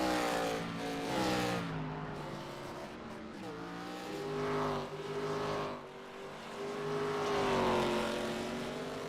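Race car engine roaring at sustained high revs down the back straightaway at Talladega in the iRacing game, a steady loud drone with a slowly shifting pitch and a brief dip, with no voices over it.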